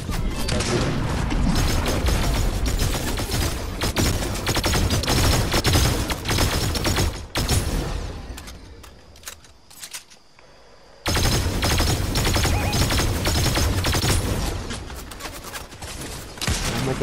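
Dense bursts of rapid automatic gunfire and explosions in the Fortnite video game, loud and sustained, dropping to a brief near-silent pause before the shooting resumes at full intensity.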